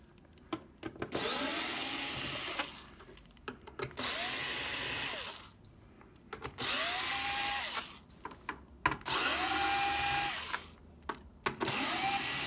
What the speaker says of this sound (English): So we're going to remove all the green screws that hold the case in place.